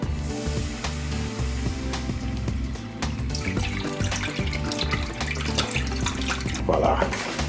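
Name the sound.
vegetable broth poured from container into pot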